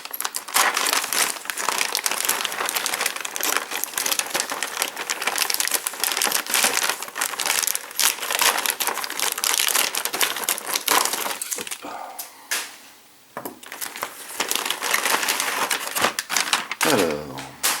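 Crinkly plastic and cardboard packaging of an Eaglemoss 1/8 Ecto-1 model kit is unwrapped, making continuous loud close crackling and crumpling that pauses briefly near the end.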